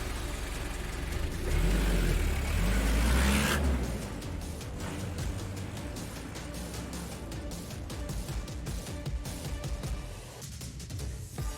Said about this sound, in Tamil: சீக்கிரம் வண்டி எடுங்க